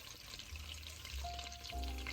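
Butter cooking in a pan over medium-high heat for fudge, a soft continuous sizzle and bubbling, close but fairly quiet, with no talking.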